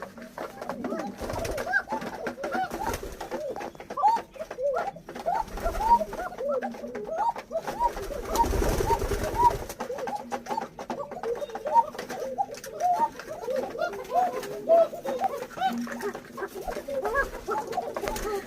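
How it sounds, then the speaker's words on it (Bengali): Pigeons coo over and over in a small pigeon farm holding Lotan and Kokka breeds. Soft, rounded calls overlap in a steady chorus, close and moderately loud, with a brief rustle partway through. "এটা দেখতেছেন আমার কবুতর ফার্ম, খুবই ছোট্ট একটা খামার আমার ফার্মে শুধু লোটন এবং ককা রয়েছে"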